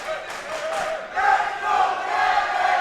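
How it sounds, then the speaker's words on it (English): A boxing crowd at the Kevin Torres vs Andrew Rodgers fight roars and shouts, with the noise swelling noticeably partway through and staying loud and excited. "The crowd now coming alive for Kevin Torres."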